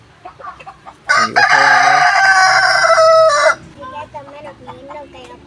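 A rooster crows loudly and long in the middle, with softer chicken clucks before and after it.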